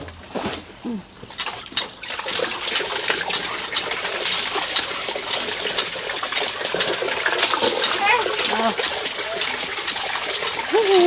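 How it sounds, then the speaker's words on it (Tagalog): Water poured over a person during a bath, a steady splashing and trickling stream that runs almost continuously, close and moderately loud, with a few brief voices and sounds at the start. "Banlaw pa, buhos lang."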